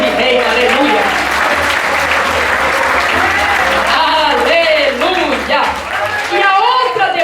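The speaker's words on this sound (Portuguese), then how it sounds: "Aplauda o Senhor porque Ele vive e reina." A congregation claps in a church service at a loud, steady level, with a preacher's voice and other voices carrying over the clapping throughout.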